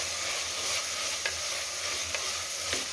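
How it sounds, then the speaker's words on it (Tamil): Cut vegetables, including kohlrabi, sauté in hot oil for a vegetable kuruma. A steady close sizzle carries on throughout, broken by a few soft scrapes from stirring. "இதை நல்லா வந்து நம்ம வதக்கி கொடுக்கலாம்"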